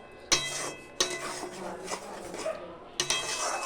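Shahi paneer masala is stirred and fried in a pan, with a spoon scraping and clanking against the metal in sharp strokes over a low sizzle.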